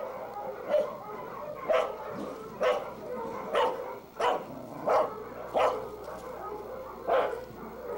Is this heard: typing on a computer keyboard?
no